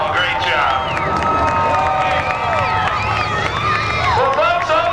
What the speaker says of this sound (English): ladies and gentlemen, a round of applause for Christian Paul